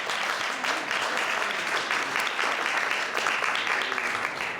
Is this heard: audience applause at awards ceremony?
yes